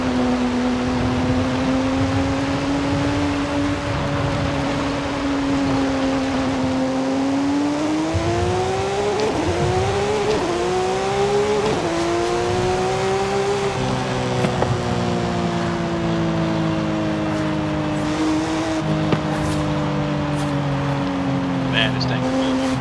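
A 1,000-horsepower car in Forza Horizon 5 drives along a highway, its engine holding a steady, loud drone that rises and dips in pitch as it shifts and revs, with talk running over it throughout.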